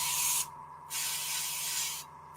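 An airbrush sprays paint color onto leather in two close, loud hissing bursts, each cut off by a short pause, with a steady hum beneath and no speech.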